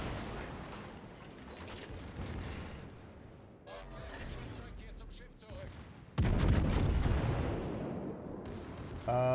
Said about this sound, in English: My secondaries are still firing